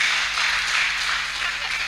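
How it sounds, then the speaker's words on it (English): A business conference audience claps, a dense, steady wash of many hands applauding together, loud and close, with no voices over it. "Please, a round of applause for yourselves."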